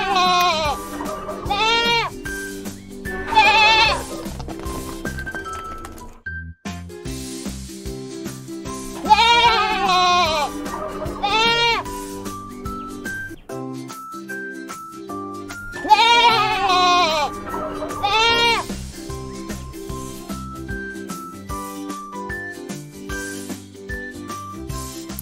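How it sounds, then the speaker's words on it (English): A goat bleats in repeated wavering calls, several loud close bleats in groups across the stretch, set over continuous backing music with a light jingle. "Goat"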